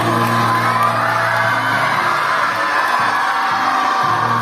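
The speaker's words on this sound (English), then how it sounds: "Clap for him everyone." A large school audience at an awards ceremony cheers, whoops and shouts loudly and continuously, with dense applause-like noise filling the whole stretch.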